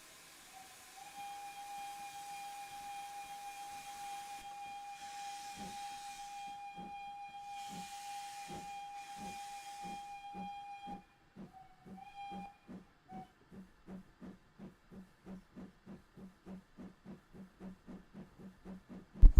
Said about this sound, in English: That's quite a long whistle.